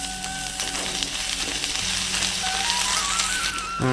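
Chopped ginger and whole spices fry in oil in a wok during village cooking, giving a steady, moderate sizzle with light crackles, and a faint voice briefly rises near the end.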